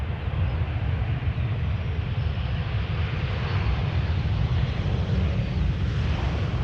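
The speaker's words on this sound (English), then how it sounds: "Now, textbook KLM, keeping up the speed, staying on the runway." A KLM airliner rolls down the Polderbaan runway at Schiphol, a dense, steady low roar of jet engines that stays loud and unbroken throughout.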